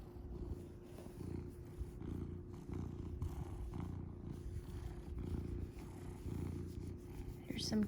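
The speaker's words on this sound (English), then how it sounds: "some cat purrs to make your day perfect." A cat purrs steadily and softly at close range in a living room, a continuous low rumble with faint background sounds.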